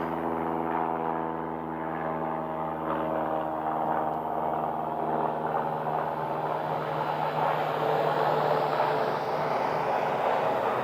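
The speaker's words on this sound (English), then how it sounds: "there goes the Piper training aircraft again" A Piper training aircraft flies over Scottsdale, its propeller engine giving a steady, fairly loud droning hum that holds evenly and shifts slightly in pitch as it passes.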